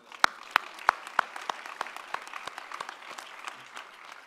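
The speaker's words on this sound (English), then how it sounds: "You guys all should get a round of applause as well." A film festival awards audience gives a faint, sparse round of applause, a few loud individual claps at first that soften into a quieter patter of scattered hand claps.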